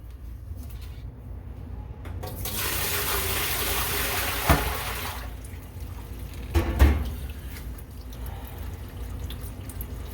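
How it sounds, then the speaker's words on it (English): A bucket of water is dumped into a laundry tub and rushes down its drain in a loud, steady gush lasting a few seconds. A couple of hollow clunks and trailing drips follow as the flow dies away. "I'm gonna now dump a bucket of water down."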